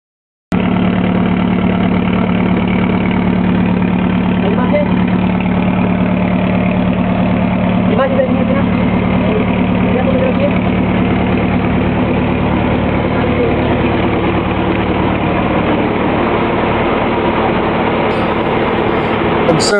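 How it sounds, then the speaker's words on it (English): A boat engine running on wood gas from an improvised carburetor fed by a reactor, droning steadily and loudly for the whole stretch with a constant low rumble, on a bay at about 6 knots. "the running engine uses an improvised wood gas carburetor connected to the reactor"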